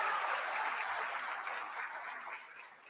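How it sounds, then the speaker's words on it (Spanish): A church audience applauds its priests and bishops, a dense wash of clapping that starts full and slowly fades over a few seconds. "Un aplauso para sus sacerdotes y obispos también"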